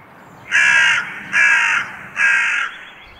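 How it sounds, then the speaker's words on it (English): A hooded crow gives three loud, harsh caws, each drawn out for about half a second and evenly spaced, with no other sounds around them. "None of the vocalizations of a hooded crow, scientifically a songbird, sound anything close to a song."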